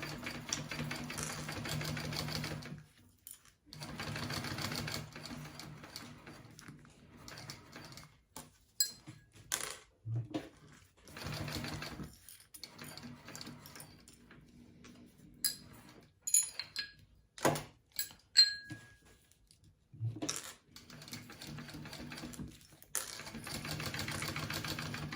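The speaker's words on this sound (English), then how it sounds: "All right, so I'm going to top stitch that." Sewing machine top stitching vinyl on a bag, several bursts of rapid mechanical stitching separated by short pauses, close and fairly quiet, with small clicks between runs.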